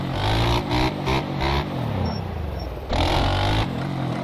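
A motocross bike in MX Bikes revs hard in loud repeated pulses, the engine climbing and dropping between throttle blips, close and dominant, with a steadier lower drone in the middle stretch.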